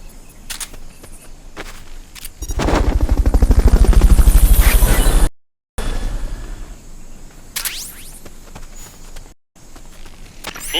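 Rotor thumping of a helicopter in the stealth action game Metal Gear Solid Peace Walker rises loud and steady for a few seconds, then cuts off abruptly, with quieter game effects around it.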